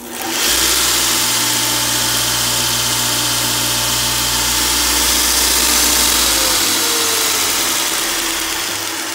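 A 2x42 belt grinder's electric motor spins up and runs with a steady, loud whirring hum and broadband hiss, then its low drone drops away near the end.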